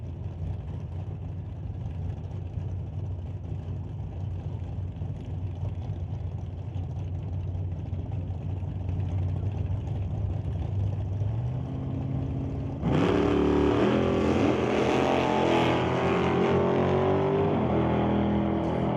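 Super Pro drag race cars launching down a drag strip, a distant engine drone building for several seconds before an abrupt, very loud roaring blast of high-revving engines that sustains to the end, with no voices.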